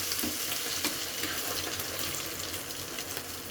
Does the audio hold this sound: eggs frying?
yes